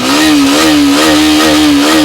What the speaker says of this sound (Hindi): पहले एक्सट्रीम का साउंड सुनवा देते हैं।